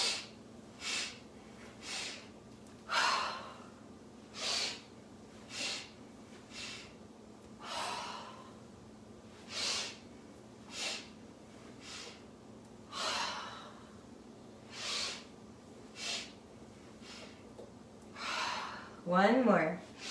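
Repeated sharp, forceful breaths from the breath-of-joy yoga breathing exercise, about a dozen rhythmic bursts of inhales and exhales with brief pauses between, ending in a longer wavering breath.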